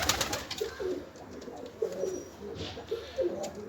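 Pigeons coo softly on a balcony, a series of low, throaty rolling calls repeating every half second or so at close range, over faint background rustling and no talk.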